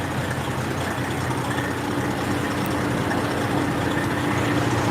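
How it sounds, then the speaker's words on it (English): An old Detroit diesel truck engine idles steadily with a deep, continuous rumble, close and even throughout, no voices. "It's an old Detroit engine."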